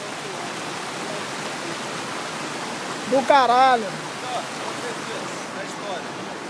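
Cachoeira do Quilombo waterfall in Brazil, a steady broadband rush of falling water throughout, with a man's loud exclamation briefly cutting over it midway.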